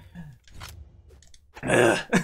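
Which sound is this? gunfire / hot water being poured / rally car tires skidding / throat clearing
throat clearing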